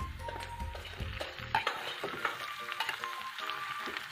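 Chicken meat hits browned onions in a hot pan, setting off a loud close sizzle, followed by stirring and light clinks of the utensil as the frying settles into a steady crackle.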